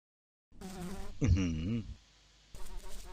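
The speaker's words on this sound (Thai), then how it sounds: "เสียงยุงบินหึ่ง เอ๊ยยุงหรือแมงวันครับเนี่ย" A mosquito or fly buzzes close by in the horror video game Eyes, a wavering insect drone that swells for about a second and a half over a faint, steady ambient hum.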